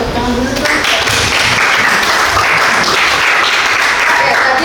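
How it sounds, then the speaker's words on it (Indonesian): Steady, dense applause from an audience at a training workshop, holding loud and even for nearly five seconds without dying down. "Tepuk tangan dulu dong."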